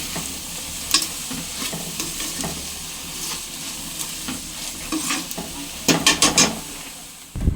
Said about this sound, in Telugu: మేకర్ వేసుకున్నాం కదండి ఒకసారి మిక్స్ చేసుకుని మూత పెట్టుకుని మగ్గనిచ్చుకున్నాము